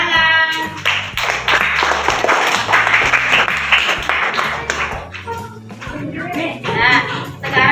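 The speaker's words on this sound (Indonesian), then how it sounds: "Tepuk tangan." Children in a classroom clap together in bursts, loud and close, with uneven rhythmic patting and a young voice speaking in between, the clapping dipping briefly midway before picking up again.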